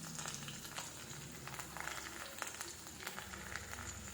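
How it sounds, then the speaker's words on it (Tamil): Small onions sizzle steadily in hot oil, a faint, even crackle of frying that continues without pause throughout. "சின்ன வெங்காயம் சிறிதளவு நச்சு ஒரு எண்ணெயில் போட்டுக்கணும்."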